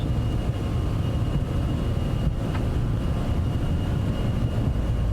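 A Citation business jet in a flight simulator rolls for takeoff with a steady, loud engine roar and rumble, broad and constant with a faint tonal whine, and no voices over it.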